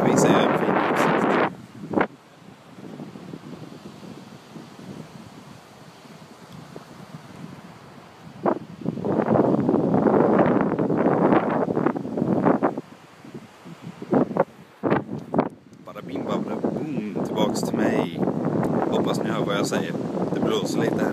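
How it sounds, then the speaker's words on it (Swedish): Outdoors, strong gusty wind buffets the microphone with a loud, rushing roar that rises and falls. A person talks at times beneath it. "Det blåser lite här nere nämligen."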